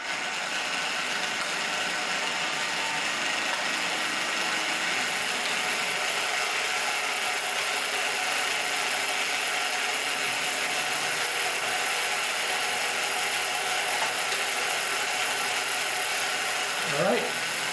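Racing marbles track mechanism running steadily, a continuous mechanical ratchet-and-gear clatter at constant level with no speech, ending in a brief louder click.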